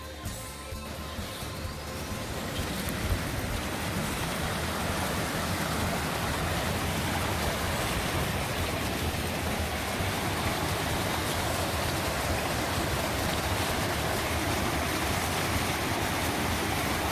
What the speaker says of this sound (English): This is a nice little creek.